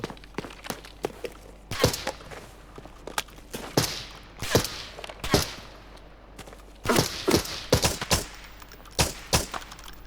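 An FAL rifle fires in Arena Breakout: Infinite, with sharp, loud single shots and short clustered bursts spaced irregularly, each a crisp crack with a quick tail, heard alone without talk.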